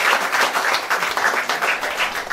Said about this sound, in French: Ok, s'il n'y a pas de questions, je vais applaudir